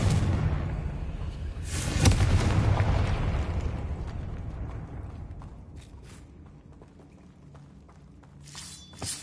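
A Confringo fire spell from Hogwarts Legacy bursts into a loud rumbling explosion that swells, then fades into a long crackling tail with scattered small pops and debris sounds.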